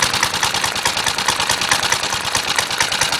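A small Suffolk Punch 30 lawnmower engine runs loud and close, chugging with a fast, slightly uneven rhythm from imperfect balance, and no voices.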